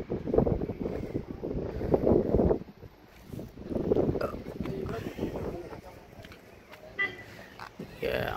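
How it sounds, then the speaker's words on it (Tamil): Cold wind blows up from a valley in the Vagamon hills of Kerala, rumbling in gusts against the microphone while someone speaks over it. "அந்த குளிர் காற்று பள்ளத்தாக்குலேருந்து காற்று மேல் நோக்கி வருது"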